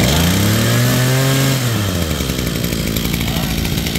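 A Mitsubishi TL26 brush cutter's small two-stroke engine runs loud and close, holding a high steady note that then drops into a rough, uneven idle.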